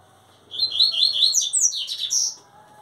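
A double-collared seedeater (coleirinha) sings a rapid, bright warbling phrase of high twittering notes, close and clear for about two seconds against a quiet background.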